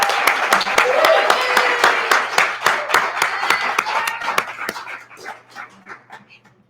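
An audience at a storytelling fundraiser claps for a storyteller coming to the stage, with brisk, close claps and a few voices at first, then thinning and fading out.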